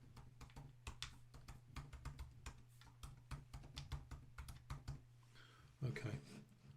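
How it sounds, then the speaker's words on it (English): Keys clatter in quick, uneven bursts of typing on a computer keyboard, close and fairly quiet, with a steady low hum underneath and a louder knock near the end. "I'm just going to type in there"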